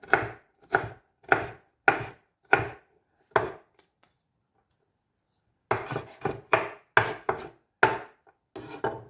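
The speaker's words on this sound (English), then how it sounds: "If you want it chopped, you turn and you chop it a little bit smaller." A knife chops bell pepper on a cutting board in sharp, close, rhythmic strokes: a quick run of about six cuts, one more after a pause, a silent gap, then another fast burst of chops.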